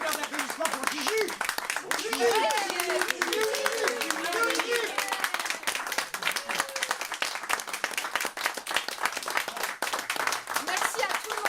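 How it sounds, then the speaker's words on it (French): At a story-and-music reading event, the crowd keeps up vigorous clapping for over ten seconds, crisp individual claps merging into steady applause, with voices talking beneath it early on. "Un tonnerre d'applaudissements pour Gigi."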